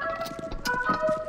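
Lead synth preset from a song: a short, sustained bright tone with steady layered harmonics, played alone and fairly loud for just over a second.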